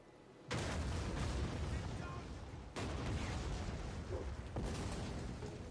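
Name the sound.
artillery firing in Rome 2: Total War video game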